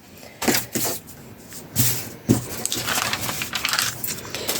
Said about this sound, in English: Listen to that crinkle, guys.